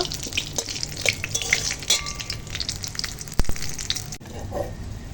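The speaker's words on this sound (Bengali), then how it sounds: "এখানে দেখো ভাজি ইলিশ মাছের মাথা ভাজা হয়ে গেছে এবার তুলে নেব" Close crackling and popping of hilsa fish heads frying in oil, with scattered spits and a couple of utensil clinks.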